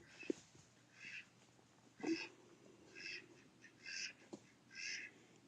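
Several ducks, three of them, quack in repeated bursts at moderate distance outdoors, each call a short nasal honk spaced about a second apart, with faint rustling between calls.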